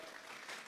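Congregation applause during a Sunday church service, a steady wash of many hands clapping together, fairly faint and distant, with no talk over it.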